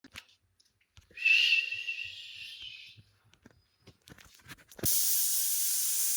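A pressure cooker on the stove while cooking kappa biriyani gives a sharp hissing whistle lasting a couple of seconds, then after a few clicks a loud steady steam hiss bursts out and continues.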